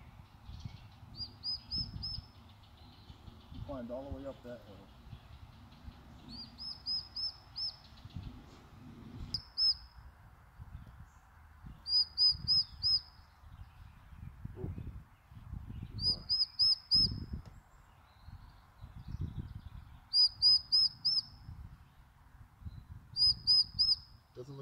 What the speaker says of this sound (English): Last I heard, something chirping there.